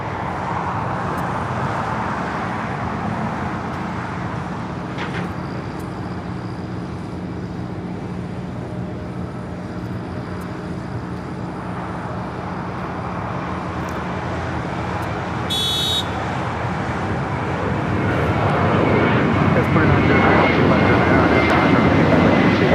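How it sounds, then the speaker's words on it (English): An American Airlines Airbus A321 takes off at Los Angeles International Airport, a steady loud jet roar that holds across the whole stretch and swells louder near the end, with a brief high electronic tone partway through. "That is American Airlines 2754 taking off to Dallas Fort Worth on the A321."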